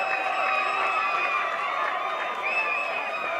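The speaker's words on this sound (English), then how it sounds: "Told you it would be a big cheer." Crowd cheering at the podium of the 12 Hours of Mugello race, a steady, far-off roar of voices and whoops sustained without pause, with a faint whistle-like tone.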